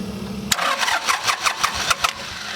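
A John Deere tractor engine cranks after a fuel filter change and bleeding, with a rhythmic chugging of several quick compression pulses as it tries to catch, close and fairly loud, no speech.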